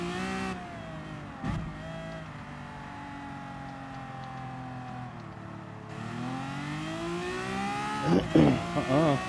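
Lamborghini V12 Vision GT engine in a racing video game, a steady droning note that climbs and dips in pitch, rising into sharper revs near the end under occasional talk.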